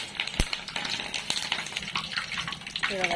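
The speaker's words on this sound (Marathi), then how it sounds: "चला आता तळायची तयारी चालू आहे मिरच्या तळायच्या चालू आहे" Green chillies sizzle and crackle in hot oil for vada pav, a steady close frying hiss with light clinks of a spoon stirring in the pan.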